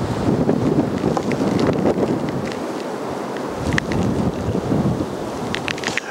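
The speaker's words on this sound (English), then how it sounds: "This is the very beginning of the storm." Blizzard wind roars through Willow Springs, Illinois, at the start of a winter storm, a loud, steady gusting rush buffeting the microphone throughout with no talking.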